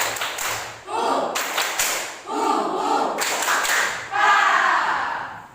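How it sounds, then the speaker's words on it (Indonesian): A classroom of students performs a rhythmic spirit clap in bursts of loud, unison claps and patterned slaps, about four groups in a row with short pauses between them. "Tepuk semangat."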